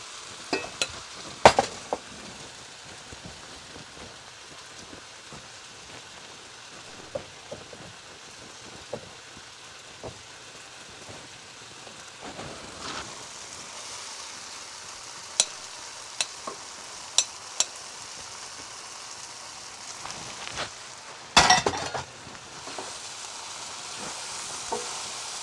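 Hakka noodles with chicken stir-fried over high heat, a steady low sizzle running throughout with sporadic sharp clinks and scrapes of utensils against the pan, louder bursts of tossing near the end; no talking.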